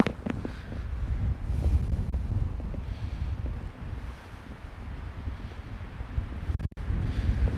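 Wind blowing hard across a microphone outdoors, a steady low rumble with gusty buffeting swells and one brief dropout near the end, with no speech.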